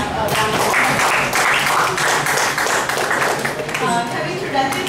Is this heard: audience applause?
yes